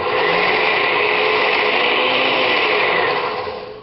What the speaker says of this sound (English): adding the nuts and the oils to your blender